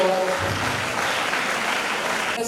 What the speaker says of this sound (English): Once again, another round of applause for her.